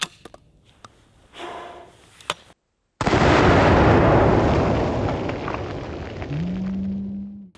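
Double-barrel sawed-off shotgun firing 12-pellet buckshot, one loud close blast followed by a long rolling echo, after a quiet stretch with faint handling noises.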